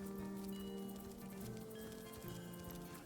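Rain falls over a gloomy village in the video game Divinity Original Sin, a steady patter of drops under a sustained tonal music bed, even throughout the short stretch with no voices.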